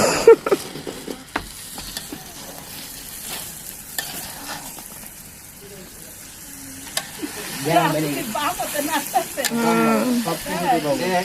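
Meat frying in oil in a pan during a rooftop family picnic cook-up, a steady sizzle with stirring scrapes, while people talk in the background and a louder voice joins toward the end.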